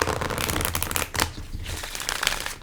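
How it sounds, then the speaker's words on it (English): Oracle cards are shuffled in a quick, close-up riffle, a crisp rapid flutter with a short pause before another round. "Let me shuffle."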